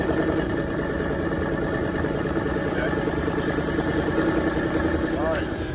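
A Ford Mustang Bullitt GT exhaust idling up close, a steady low rumbling burble with a throbbing pulse that holds even throughout, a faint voice briefly audible over it.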